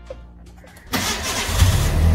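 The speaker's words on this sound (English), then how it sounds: "So start the engine first." A car engine cranks and catches at close range after a near-silent moment, then settles into a steady low running rumble, recorded during a brake system component lab.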